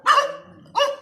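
Village dogs in rural Jiangxi, China, barking close by: two sharp barks, the second following after a short pause.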